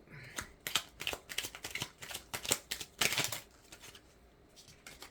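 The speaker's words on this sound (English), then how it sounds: "So let me just give a couple shuffles here" Oracle cards being shuffled by hand in quick, uneven bursts of riffling and flicking, close and fairly quiet, with short pauses between shuffles.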